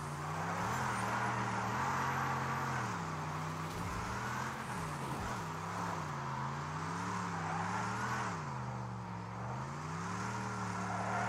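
Steady engine drone from a Destruction AllStars vehicle, close and continuous, its pitch rising and dipping as it revs and eases across the whole stretch, with no talk over it.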